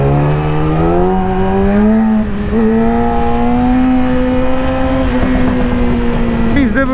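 Yamaha R6 sport motorcycle riding through traffic, its engine note climbing steadily through the gears in a rising whine, loud and close, with a brief dip near midway and a short harsh burst at the end.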